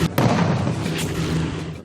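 Two loud, sharp blasts boom close by, about a second apart, followed by a rumbling roar.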